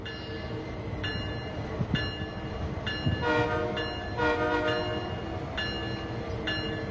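A K3LA horn on a BNSF train in Train Sim World 3 sounds in several short, sharp blasts followed by a longer one, over a constant rumble of the locomotive and rail cars.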